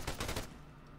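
Video game gunfire rattles off in rapid, loud bursts through the first half, then drops away to a lower lingering background din with no talking.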